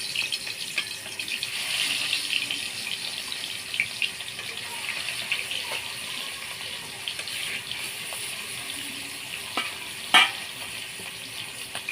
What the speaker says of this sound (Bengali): কড়াইটা আমার তেলটা গরম হয়ে গেছে, এবার আমি মাছগুলো দিয়ে দিচ্ছি।